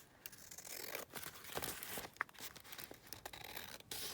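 Coffee-dyed junk mail paper being cut along one edge, giving a close, dry run of crisp tearing and crinkling rustles, with a few sharper snips and no voices.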